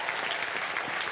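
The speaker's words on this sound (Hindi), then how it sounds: "जोरदार तालियां बैंड के लिए।" Audience applause for a band on a game show, a short dense burst of steady clapping close by, with no pause.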